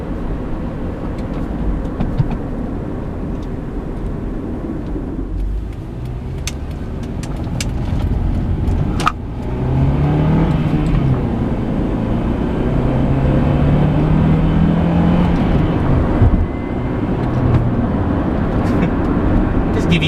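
A 2003 Honda Accord EX-L with a five-speed manual accelerating, its engine drone rising steadily in pitch under a constant road rumble, heard from inside the cabin.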